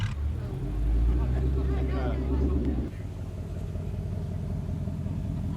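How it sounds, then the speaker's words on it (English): Cars roll into a car festival, among them a Shelby, with a deep engine rumble passing close by, then easing into lower background idling; someone speaks over it. "God, these cars just sound so damn good."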